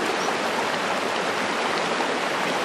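A small, clear river flows through a little canyon, a steady, full rushing and gurgling of water close by, constant and unbroken with no voices.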